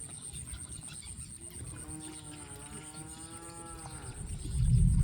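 A water buffalo lows in a flooded rice field, a long, faint, wavering call rising then falling over a couple of seconds, set far back in an outdoor ambience of steady insect drone and rustling, with louder wind or handling noise at the end.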